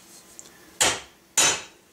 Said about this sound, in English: Hammer it down good and tight